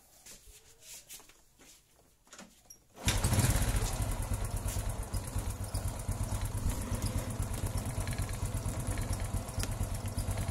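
An old Honda Revo or Supra motorcycle engine starts after a quiet stretch and then runs steadily at idle, a close, even putter that continues loud to the end.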